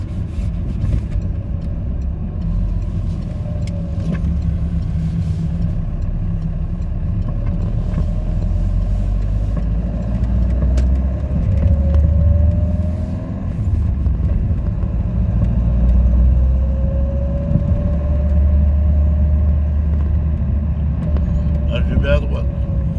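A car drives through town streets in Lagny, Seine-et-Marne, braking and shifting down into second gear. A steady, loud engine drone rises and falls in pitch as it slows, with a voice speaking over it.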